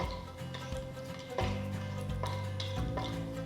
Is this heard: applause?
no